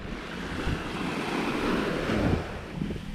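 Surf rolls onto a white sand beach in Mindoro, a steady broadband wash of breaking waves with wind buffeting the microphone, loud and continuous with no talking.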